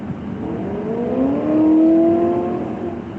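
A Chevrolet Camaro accelerating hard on a road, its engine note climbing in pitch and swelling in loudness as it revs up, heard from inside a passing vehicle with road rumble underneath.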